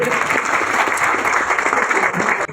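An audience claps for a 10th and 12th grade student being honoured at a community awards ceremony, with dense, sustained applause from a crowd throughout, close and loud.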